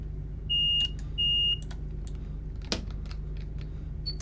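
A train door buzzer in Train Simulator Classic gives two short, clear electronic buzzes in the cab over a steady engine hum, followed by clicks and a soft thump of cab controls, then a third tone begins.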